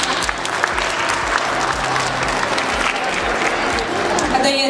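Audience applauding at a fashion and beauty gala night, a steady dense wash of clapping from a large crowd that holds at an even level throughout, with scattered voices mixed in.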